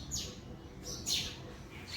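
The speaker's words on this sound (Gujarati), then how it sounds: "પણ આજે ચકલીઓ આવી ગઈ છે." Sparrows chirp outdoors near a family home in hot weather, giving a few short, thin, fairly faint tweets spaced across a quiet background.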